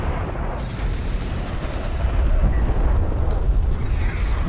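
Artillery barrage from a siege unit in the desert strategy game Homeworld: Deserts of Kharak, a dense, continuous low rumble of overlapping explosions that swells slightly toward the end, with no clear separate blasts.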